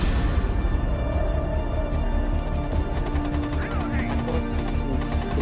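Rapid gunfire in the video game Rainbow Six Siege, loud and close, with shots rattling continuously under dense, busy game noise from start to finish.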